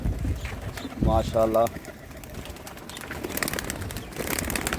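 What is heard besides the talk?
pigeons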